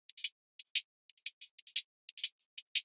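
An instrument stem, pitched down and run through an envelope, auto pan and EQ Eight, comes through as quiet, thin, clicky bursts in an uneven stuttering rhythm, with no voices.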